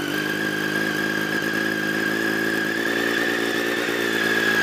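A 2013 Triumph 675R sport motorcycle engine idles steadily and close up, with an even mechanical hum that holds at one pitch throughout.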